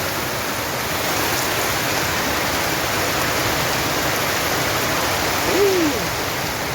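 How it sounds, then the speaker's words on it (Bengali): Heavy rain pours down fast in a steady, dense broadband hiss that never lets up, close and loud, with one short brief tone near the end and no talking. "দেখেন এখানে কত স্পিডে বৃষ্টি হতেছে।"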